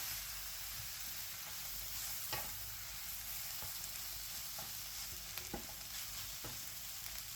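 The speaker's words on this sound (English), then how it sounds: "Just gonna go ahead and mix all of these together." Sausages with other ingredients for a Caribbean sausage dish, browned golden, are stirred in a hot pan: a steady close sizzle runs throughout, broken by several sharp scrapes and clacks of the spoon against the pan.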